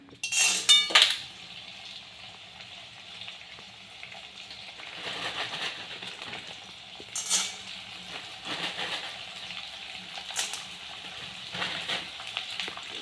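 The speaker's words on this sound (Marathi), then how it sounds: "त्यामध्येच लगेच तूप गरम करून घ्यायचं आणि त्यामध्येच डिंक घ्यायचा तळून" Edible gum fried in hot ghee in a kadhai gives a soft, low sizzle, broken by several sharp metallic clinks and scrapes of a utensil against the pan.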